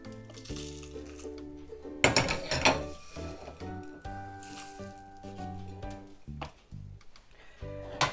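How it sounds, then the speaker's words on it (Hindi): An electric grinder grinds roasted chaat masala spices and coarse citric acid, a rattling, clattering mechanical whir in short bursts with pauses between, fairly close. "वो भी इसी में हम डालकर ग्राइंड कर लेंगे ताकि अच्छी तरह बारीक हो जाए।"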